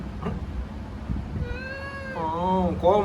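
A cat meows close by, with two or three drawn-out, rising and falling cries in the second half over a low room hum and faint background noise.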